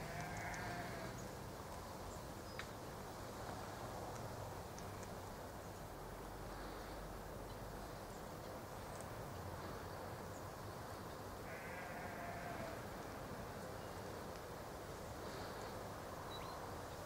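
Sheep bleat faintly and intermittently in a distant yard, a few short calls spaced several seconds apart over a quiet outdoor background with no talk.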